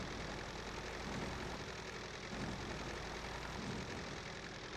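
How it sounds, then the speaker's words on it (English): Baler engine in Farming Simulator 2013 running as a steady, droning hum that holds evenly at a constant loud level throughout, with no clear rise in pitch. "Turn on baler is X. Let it rev up."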